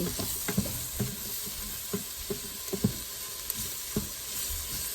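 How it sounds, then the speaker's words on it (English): Chicken sautés in an Instant Pot for cacciatore, a steady close sizzle punctuated by irregular clacks and scrapes of a utensil stirring the pieces. "No, you can also use this to saute."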